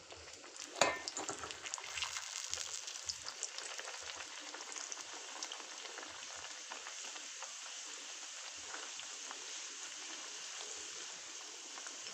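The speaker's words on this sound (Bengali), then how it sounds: "এখানে তেল গরম হয়ে গিয়েছে। এবার পরোটাগুলো ভেজে নেব।" Stuffed green pea parathas frying in hot oil in a kadai, a steady close sizzle with crackling bubbles that flares loudly at the start, then settles into an even hiss throughout.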